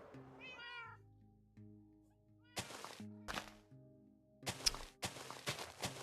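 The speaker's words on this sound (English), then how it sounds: "all these cats. They're so loud." Cats meowing in the Minecraft video game, several rising meow calls early on followed by scattered thuds and clattering game sounds over a steady low background tone.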